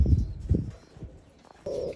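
Low, soft coos from four large racing pigeons in short bursts, close by, with a steadier hum rising near the end.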